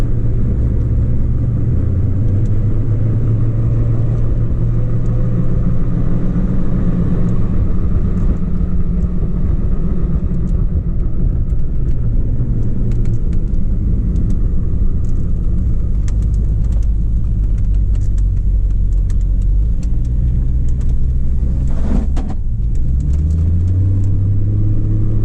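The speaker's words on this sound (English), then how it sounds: "Hear that noise? It's the tires. You got some pretty big tread on them." Tire road noise from a 2003 Chevy Trailblazer fitted with big-tread tires, a steady low rumbling hum with engine drone that holds loud and constant the whole time, with no talking.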